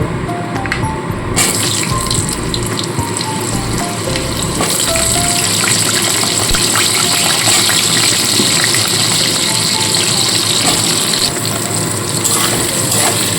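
Cut potatoes tipped into a pan of hot oil with other chopped vegetables, setting off a loud, dense, continuous sizzle that swells sharply after the first seconds and stays strong.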